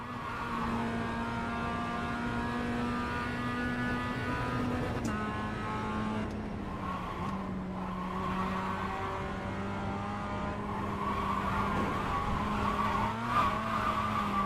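Tires squeal under snap oversteer as a race car slides at Barber in a racing game, a steady loud skid tone over a constant engine drone, swelling slightly near the end.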